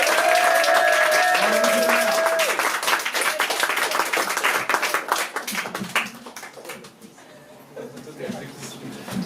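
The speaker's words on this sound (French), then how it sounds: "Je voudrais qu'on fasse un max de bruit pour tous les slammers qui vont passer" A crowd at a slam poetry event applauds loudly with scattered cheers, the clapping thinning and fading toward the end.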